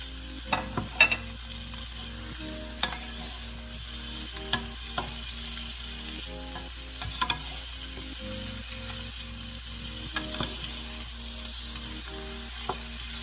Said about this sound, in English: We're going to fry this up for a few more minutes until our tomatoes soften nicely